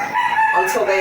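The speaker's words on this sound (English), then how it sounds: "Oh, there's a cockerel in the background." A rooster crows once in the distance, a drawn-out cock-a-doodle-doo over a faint background hum.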